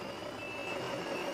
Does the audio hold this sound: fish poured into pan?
no